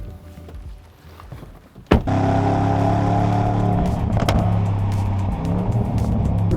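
A 2025 Bentley Bentayga Speed sliding on an off-road gravel surface: a quiet low hum, then a sudden sharp jolt and a loud sustained engine roar with gravel crunching and a dense rushing wash.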